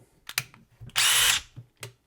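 A repaired DeWalt stubby power tool whirring in a short high-speed burst between brief clicks and taps, close and loud, with no talking.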